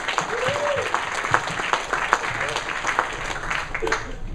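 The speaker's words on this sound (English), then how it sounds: "warm round of applause for ShareSquare, last company of the night" At a startup founder showcase, the audience gives a warm round of applause for the last company of the night, steady clapping from a modest crowd with a voice briefly audible beneath it.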